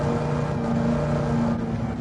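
Steady old-school race car engine drone at Watkins Glen with a strong tonal hum, loud and continuous for the whole stretch, no voices.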